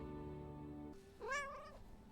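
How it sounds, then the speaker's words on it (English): A Loth cat from Star Wars Ahsoka gives a single short, rising meow, close and clear, following a low steady hum with no talking. "Oh, I love the little Loth cat."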